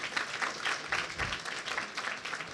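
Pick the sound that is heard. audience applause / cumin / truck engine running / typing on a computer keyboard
audience applause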